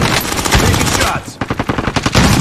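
Rapid automatic gunfire in a Call of Duty match, loud dense bursts with a brief pause and then a steady run of evenly spaced shots, close and dominant.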